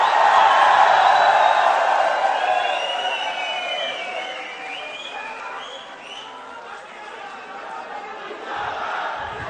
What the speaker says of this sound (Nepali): राष्ट्रिय स्वतन्त्र पार्टीलाई जोरदार तालीले स्वागत गरिदिनु होला